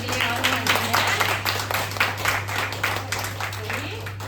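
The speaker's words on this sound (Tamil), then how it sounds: "அப்ப உங்களுக்கு ஒரு கைத்தட்டல் கொடுத்துக்கோங்க." Classroom students clap together in a steady burst of applause lasting several seconds, a dense run of hand claps with a low constant hum beneath.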